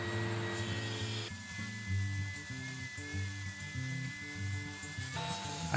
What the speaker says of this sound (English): use this opportunity to sand all the edges